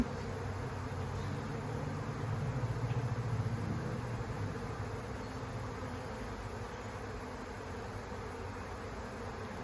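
Honey bees from a captured swarm hum in a thick, continuous drone close by as they are gently placed into a hive, swelling slightly partway through, with no talking.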